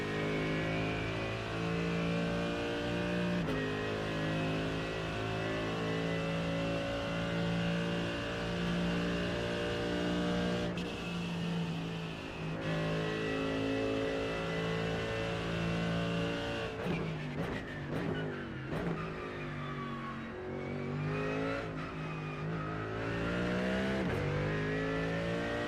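A Porsche race car engine at Suzuka in a racing video game howls at high, sustained revs, loud and close. Near the end come several quick gear shifts and rev changes, with no talk.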